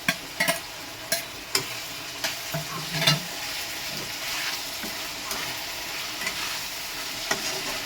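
Ginger paste stir-frying in a pan, a soft steady sizzle punctuated by repeated sharp scrapes and taps of a spatula against the metal, close and fairly quiet.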